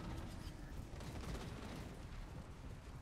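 Massed musket and rifle fire crackles continuously in a Total War: Warhammer 2 battle as skin wolves charge the line, a dense, distant rattling roar with no break.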